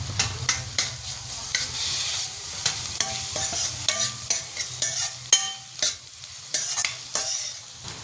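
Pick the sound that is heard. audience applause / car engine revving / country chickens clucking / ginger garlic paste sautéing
ginger garlic paste sautéing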